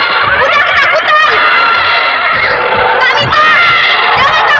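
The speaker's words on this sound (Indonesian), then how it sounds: "Itu lihat, kuda ketakutan." A frightened horse whinnies in a dramatized radio play scene, its shrill, wavering neighs rising twice in a dense, loud mix with voices and background effects throughout.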